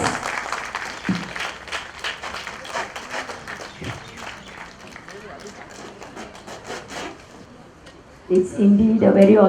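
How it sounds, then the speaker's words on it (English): Audience applause at a ribbon cutting ceremony for a campus inauguration, a faint, scattered patter of clapping beneath a voice speaking, swelling louder in the final second. "Please give them a big round of applause."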